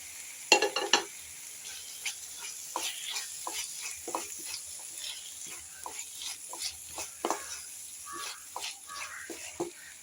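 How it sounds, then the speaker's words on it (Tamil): Tomatoes frying with ginger garlic paste in oil for a chicken curry, giving a steady soft sizzle broken by repeated stirring scrapes of a spoon against the pan, close by, with no talk. "தக்காளி நல்லா வதங்கட்டும்."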